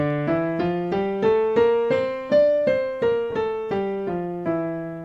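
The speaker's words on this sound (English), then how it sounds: "in the D natural minor scale" A D natural minor scale plays note by note, rising then falling, each tone ringing clearly with a gentle decay, steady tempo, no voices.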